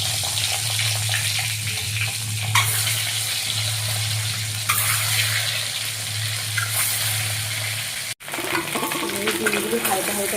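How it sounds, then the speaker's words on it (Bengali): Eggs fry in hot oil in a pan with a steady, loud crackling sizzle, and occasional stirring or shifting sounds break in; there is a brief dropout near the end before the frying resumes. "ডিমগুলো হালকা হালকা করে ভেজে নিচ্ছি, আর একটু সময় ভাজবো।"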